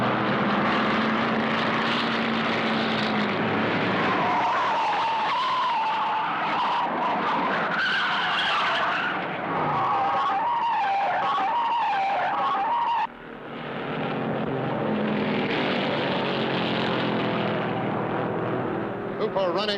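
Stock cars roar loudly around the track through the whole stretch, engine pitch rising and falling as they pass, with a brief dip before the noise swells again; a commentator talks over it.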